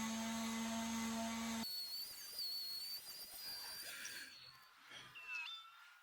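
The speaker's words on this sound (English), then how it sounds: "So I'm just giving them a light sand now." Light sanding on a solid blackwood tea trolley under restoration: a short steady motor whine gives way to a close, gritty abrasive hiss with faint shifting tones; no talking.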